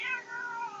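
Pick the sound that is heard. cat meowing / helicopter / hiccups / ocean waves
cat meowing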